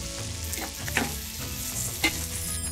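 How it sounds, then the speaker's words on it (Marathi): Onion frying with garlic and ginger in a pan, a steady close sizzle with occasional stirring scrapes and two brief utensil knocks, no voices. "हे परतत असताना यामध्ये लसूण आणि 2-3 आल्याचे पाकळ्या आणि सोनेरी रंगावर हे परतून घेऊया."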